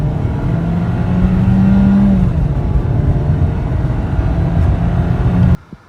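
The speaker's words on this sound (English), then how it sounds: "Alright, so we'll do some speed test with drive mode on. So this is flooring it." A Volkswagen Golf with a 1.4-liter four-cylinder turbo engine accelerates at full throttle, heard from inside: a loud, steady engine drone rises in pitch for about five seconds, then cuts off abruptly.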